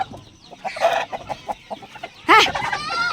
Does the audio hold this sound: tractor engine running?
no